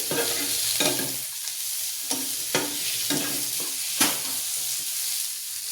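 Cashews, green chillies, ginger and garlic frying in a pan for palak chuna ghode, a continuous loud sizzle punctuated by several scraping stirs of a spoon, close up with no speech.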